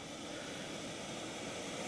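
Jetboil camping stove burning at a wild camp, a steady loud roaring hiss that stays constant from start to end with no pauses.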